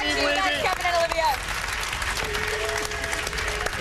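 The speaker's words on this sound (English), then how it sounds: "one more round of applause." Audience applause at the E3 2009 trade show, a steady loud roar of clapping from a large crowd, with voices and music-like tones mixed in over it.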